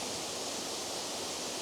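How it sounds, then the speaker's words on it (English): Tianna Falls, a waterfall, rushes steadily as a constant broadband roar, moderately loud and unbroken, with no voices or other sounds. "It's a nice waterfall, I'll let you see it from here."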